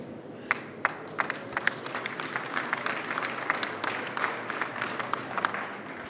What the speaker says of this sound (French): Je pense qu'on peut aussi tous nous applaudir.